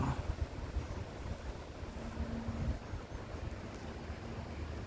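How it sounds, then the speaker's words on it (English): Gusty wind over open water in South Carolina during a drought, rumbling against the microphone with a low, rough, fairly steady wash and no voices. "That's how windy it is."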